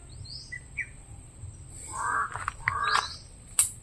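A crow calls from up high: a short run of harsh, ragged caws around the middle, moderately distant, with faint chirps and a quiet background.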